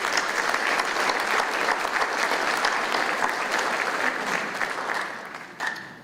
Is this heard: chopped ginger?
no